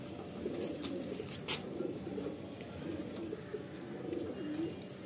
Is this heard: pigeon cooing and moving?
yes